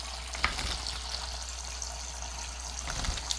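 Pet birds, including one named Loki, splashing in a new water bath on a kitchen counter, a steady wet fluttering and spattering with a few sharper splashes, close and continuous.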